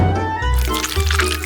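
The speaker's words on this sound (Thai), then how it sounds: "เอาเจลลี่สีฟ้ามานิดหน่อย" Blue jelly pours into a decorative sea-themed mold for a cake, giving a short, close, wet glugging and filling sound with soft drips, heard alone.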